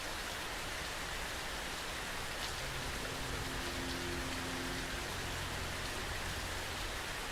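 Steady rain pattering across the whole clip in the video game Fallout London, a dense, even wash of noise with a faint low hum underneath.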